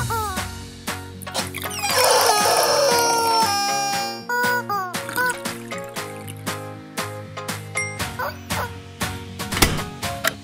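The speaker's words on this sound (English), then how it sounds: "Every craft needs a rubber chicken." Rubber chicken squawking in rapid bursts, a strained rising screech followed by a string of short squeaky honks at uneven intervals, loud and close.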